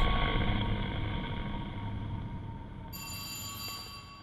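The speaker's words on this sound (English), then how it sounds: "Ooh, the phone's ringing." A telephone rings in the horror video game At Dead of Night, a sustained electronic bell tone held over low rumbling ambience, with a brighter second burst near the end.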